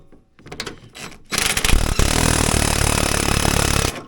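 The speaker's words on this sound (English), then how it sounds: "There we go. Carriage bolt in its home. I just got to get that nut tightened down." Nut being run down onto a carriage bolt on the chassis of a vintage single-cylinder race snowmobile, heard as a few brief rubbing clicks and then a loud, steady mechanical whir of about two and a half seconds.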